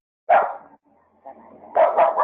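A dog barks once, goes briefly quiet with low rumbling, then lets out a quick run of loud barks, fairly close, heard over an online call line.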